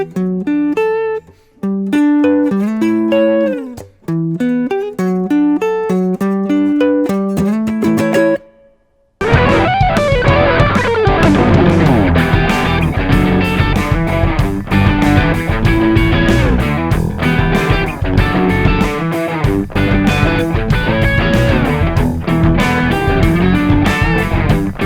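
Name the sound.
guitar strummed with counter melody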